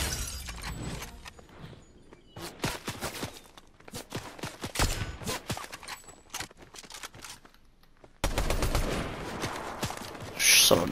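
Gunfire in the Fortnite video game rattles in rapid bursts and scattered single shots, mixed with game effects and a sudden louder passage near the end.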